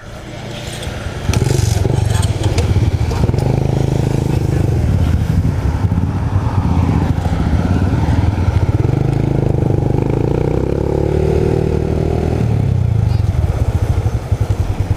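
A Yamaha M-Slaz 150 motorcycle with a fat silver aftermarket exhaust is ridden. The engine bursts in loud and close after about a second, then drones steadily with its pitch swelling and easing as the throttle changes.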